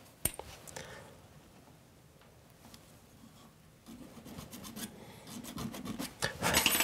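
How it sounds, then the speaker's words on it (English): A small file scrapes excess solder off a silver ring in short, faint strokes that start sparse and quiet, then become busier and louder toward the end. "grab a small little file and just remove a little bit of the excess solder onto that, off that"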